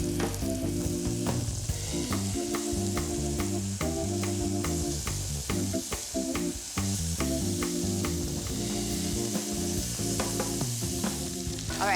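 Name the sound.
lamb pieces browning and sizzling in a pot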